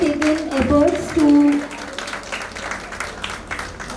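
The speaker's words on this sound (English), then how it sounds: "Kindly give them a huge round of applause." Scattered clapping rises from an audience at the Bharat Dental Show inauguration in a dental college hall, partly under talking voices, with a louder spoken stretch near the start.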